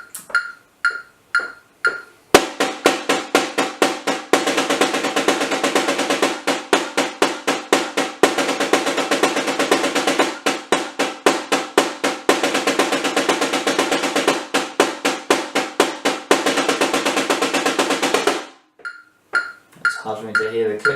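A caixa snare drum is played with fast hand-to-hand strokes at 120 bpm. A long run of sharp, evenly spaced hits lasts around sixteen seconds, with a few slower taps before it and after it.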